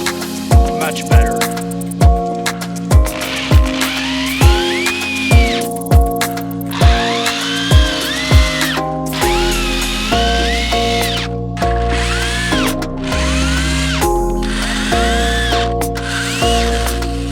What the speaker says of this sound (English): It would help if I put the right drill bit in.